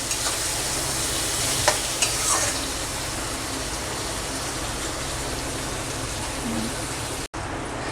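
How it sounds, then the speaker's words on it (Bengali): Chopped tomato sizzles and hisses steadily in a hot frying pan of oil as it is stirred, a continuous close frying noise with a few faint scraping knocks, cut short by a brief drop near the end. "টমেটো কুচি দিয়ে আর একটু নেড়ে চেড়ে ঢাকা দেব"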